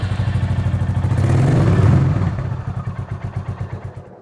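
A Royal Enfield 350 Classic Reborn motorcycle with an upgraded exhaust revs up briefly then settles back to a deep, loud thumping idle with evenly spaced, pulsing beats close by.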